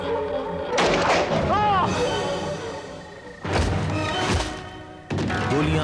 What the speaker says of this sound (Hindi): गोलियां दो चली, लेकिन मिस्टर सूरत वाला का निशाना छोड़ दिया